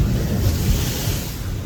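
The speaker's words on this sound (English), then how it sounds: "this is like a car wash, so we got some splashes even right here" Water sloshing and splashing as a low-riding Toyota Prius Prime plug-in hybrid drives through flood water, a continuous loud rush that drowns out everything else, with no voices.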